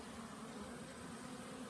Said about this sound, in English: These bees, we got a yellow jacket here too, but all these are my honeybees.